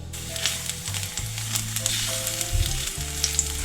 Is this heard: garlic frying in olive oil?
yes